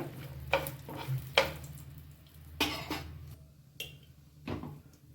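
A spoon scrapes and stirs peanuts and rice masala in a pan for puliyogare, a series of distinct scraping strokes at an uneven rhythm over a soft steady hum.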